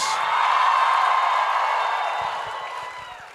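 A fan-panel crowd for Stranger Things roars with sustained cheering and applause, loud and dense at first, then thinning slightly toward the end.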